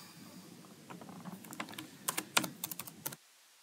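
Quiet keyboard typing while logging in to an online learning platform, a burst of quick, uneven clicks that stops abruptly.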